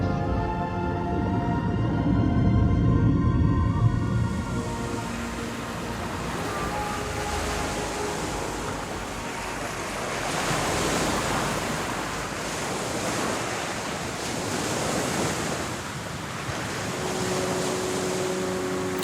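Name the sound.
ocean waves washing on a shore, ambience effect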